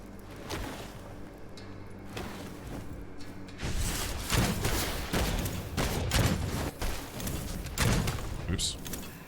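A medium-range gun fires in the video game Witchfire, sounding as repeated sharp shots in quick volleys that grow denser and louder partway through, with thuds and game effects mixed in.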